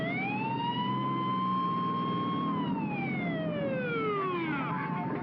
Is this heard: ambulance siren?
yes